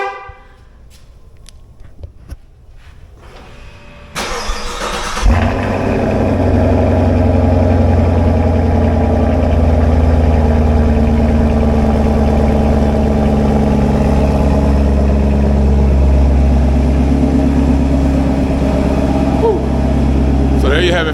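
A 2023 car with an LT1 engine turns over after a few seconds of quiet handling noise, then fires with a loud burst and settles into a steady, deep, rumbling idle that fills the rest of the clip at close range.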